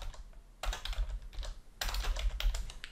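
Computer keyboard keys clacking in short bursts, a few close, crisp strokes ending in a press of the return key, with quiet pauses between and no talk.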